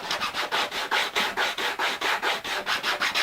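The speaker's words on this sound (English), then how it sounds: "I started off with this sponge sanding thing. We just call it a foam sanding block." A foam sanding block rubs back and forth across a 3D printed part in a fast, even rhythm, each stroke a close, dry rasping swish with no talk.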